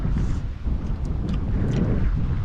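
Strong wind at sea roars steadily across the microphone, a dense low rumble with gusty buffeting and no voices.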